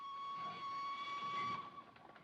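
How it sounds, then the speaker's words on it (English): A steam train departs a station in a 1935 film, with a sustained, steady whistle tone over rumbling rail noise that fades out near the end, with no talk. "train's departure from the station."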